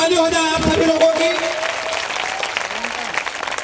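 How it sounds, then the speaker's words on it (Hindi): Audience at a school annual function breaking into loud, sustained applause that rings out and slowly thins, following a speaker's voice over a PA at the start. "जोरदार ताली हो जाए आप सभी लोगों की"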